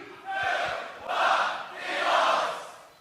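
A crowd at the GBB24 beatbox battle shouts a countdown in three loud, swelling bursts, each a massed roar of voices close by, with the last fading out.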